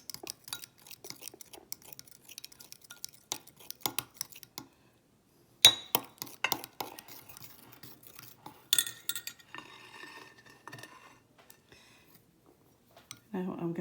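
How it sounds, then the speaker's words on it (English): Sugar being stirred in a bowl while making chocolate-covered strawberries gives light, intermittent clinks of a utensil against the dish, with a short pause partway through and some talk around it. "now what I'm going to do is just mix it up a little bit better"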